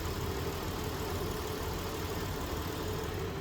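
A car engine idles steadily during a fuel injector test, with a continuous low, even rumble and no voices.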